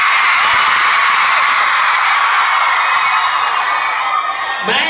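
Loud, sustained screaming and cheering from a big crowd of young fans at an O2L event in Denver, a dense wall of shrill voices that holds steady throughout, with a nearby voice cutting in at the end.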